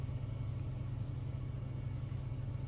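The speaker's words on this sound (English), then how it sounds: "I'll just have you idle the truck." A truck engine idles in a blizzard, a steady low rumble with no change in pace, close and continuous throughout.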